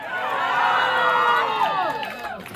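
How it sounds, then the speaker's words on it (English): Crowd at a political campaign's final rally cheering and clapping loudly, a dense continuous roar of voices with shouts rising over the applause, then tapering off. "Give yourselves a round of applause."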